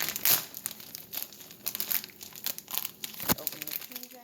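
Cheese packaging for a potato bacon omelette being torn open, with crisp crinkling and crackling plastic in irregular bursts and a sharp tearing snap near the middle, close and fairly quiet.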